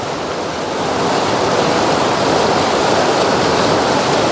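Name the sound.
running water while wetting a shaving brush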